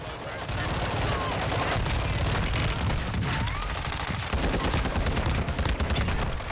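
Vector SMG fired in the game Warzone 2, a near-constant stream of very rapid automatic fire, loud and dense throughout, with brief gaps and shifts between bursts.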